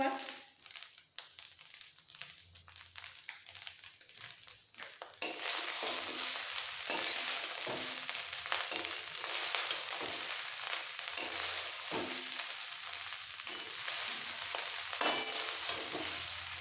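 Rice for a Bengali festive-style fried rice polao being stirred and fried in a pan: a quiet start, then from about five seconds steady loud sizzling with repeated scraping stirs throughout.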